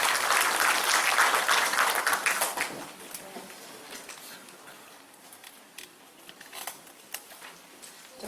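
A crowd at a Korean civic event gives loud, full applause that quickly thins out, leaving a few scattered, lighter claps and faint rustling afterward.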